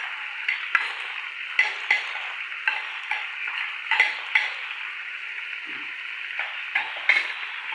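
Mixed vegetables with chopped fenugreek leaves get stirred in a pan, a soft steady hiss with irregular scraping strokes and light clicks of the spoon.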